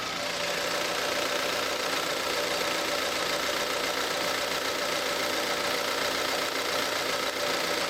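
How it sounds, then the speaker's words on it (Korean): A Chevrolet Spark's small engine idles steadily outdoors for the whole stretch, a quiet, smooth, even hum with a faint rattle and no voices. "밖으로 나왔고 엔진 소리 한번 들어보도록 하겠습니다"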